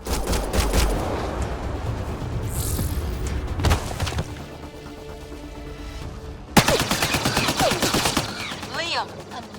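Gunfire in the Mass Effect Andromeda video game, rapid bursts of automatic shots and sharp cracks, loud and close, starting and stopping amid battle noise and brief shouted voices.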